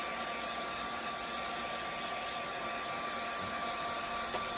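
A hair dryer blows steadily and loudly up close, drying paint on a plastic diorama background piece, a constant whooshing hum with no talk.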